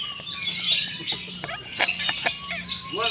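An oriental magpie-robin (kacer) singing at a songbird contest in Palembang, loud, varied chirps, whistles and sharp trills in quick bursts, with other birds faintly chirping behind.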